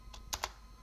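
A computer keyboard gives a few quick, faint keystrokes up close while a command is typed, with no one speaking.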